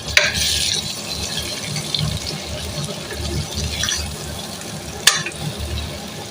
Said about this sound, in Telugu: మనం తయారు చేసి పెట్టుకున్న మసాలా పొడిని కూడా ఇందులో వేసేద్దాం బాగా మిక్స్ చేసేసుకున్నాం